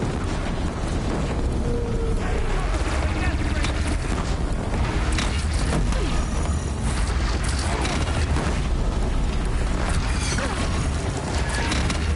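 Cannon fire and heavy explosions in the action game Horizon Zero Dawn form a loud, dense barrage of booms and crashing rumble that never lets up, with a voice speaking over the gameplay.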